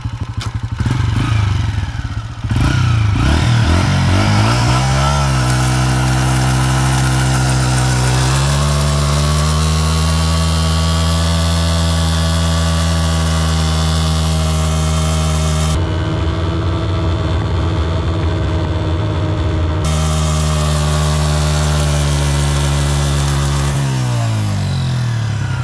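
Motorcycle fitted with a gate chain drive, engine revving hard and holding a loud sustained drone that rises in pitch and steadies, with a mechanical clatter at the start and a brief drop partway through.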